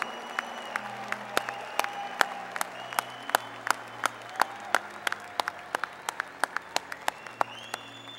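A crowd applauds graduates of the Division of Forestry and Natural Resources at a university commencement, with steady scattered clapping from a large audience in a hall and sharp individual claps standing out.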